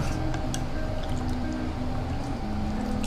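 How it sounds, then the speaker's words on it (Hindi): Water poured into rava dosa batter gives a steady, loud liquid churn and squish with faint dripping, continuous throughout, with no voices. "हाँ, इसमें और पानी डलेगा।"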